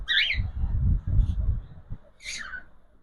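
Cockatiels let out two sharp, shrill squawks, one at the start and another near the end, over low handling noises and murmuring close by.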